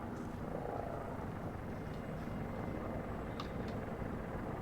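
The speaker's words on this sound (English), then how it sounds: "I hear a helicopter." A steady, broad rotor-and-engine roar from a helicopter overhead in a military video game fills the whole stretch, dense and continuous with faint higher whistles near the end.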